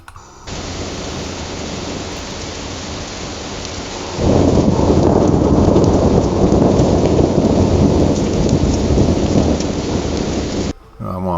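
AI-generated thunder effect: a dense, loud roar of rumbling noise with a rain-like hiss, swelling heavier partway through and holding steady before cutting off near the end, with no voices.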